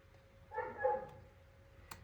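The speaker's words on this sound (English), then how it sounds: "Now she's barking because she wants in." A single faint, muffled dog bark sounds in the distance against a quiet background.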